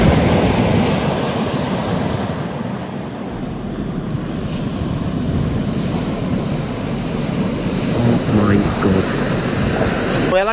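Sea waves off the coast of Gabon, where hippos swim in the ocean: a continuous, loud rushing surf roar with gusty wind buffeting the microphone throughout.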